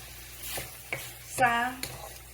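Chicken pieces fry and sizzle in a pan without coconut while being stirred, with a few scraping strokes and a short squeaky tone midway.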